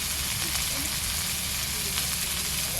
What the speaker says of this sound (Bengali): ইলিশ মাছ কলা দিয়ে ঝোল করছে দিদান।